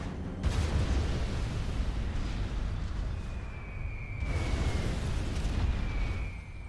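Explosions in the real-time strategy game C&C Generals Zero Hour, a heavy rumbling blast followed by a second sustained boom with whistling debris, dense and loud with no talking.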